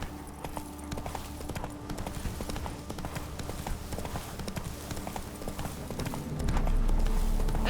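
Horse hooves clip-clop in a steady galloping rhythm throughout, loud and close, in the video game The Witcher 3, with a swelling low rumble near the end and brief voices underneath.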